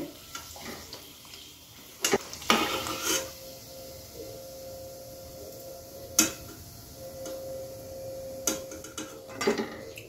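Peas-stuffed puris frying in hot oil, a low sizzle broken by sharp clinks and scrapes of a utensil against the pan, with a faint hum running beneath.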